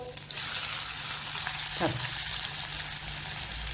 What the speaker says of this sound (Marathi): आता आपण कांदा टाकणार आहोत